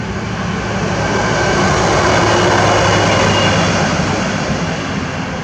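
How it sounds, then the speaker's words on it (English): A train rumbling past near the Towpath Trail outdoors, a loud continuous roar with a steady low drone that swells slightly in the middle and stays dense throughout, with no voices. "And here comes another train."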